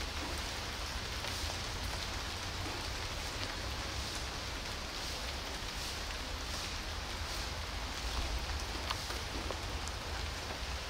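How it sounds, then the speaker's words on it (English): Steady rain falling, a continuous soft hiss with scattered drop patter on surfaces, even and unbroken throughout. "Rainy day."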